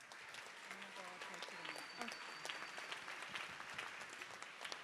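Applause from an audience at a People's Summit for Democracy, recorded quietly. Continuous crowd clapping runs steadily through the clip with a faint murmur of voices mixed in.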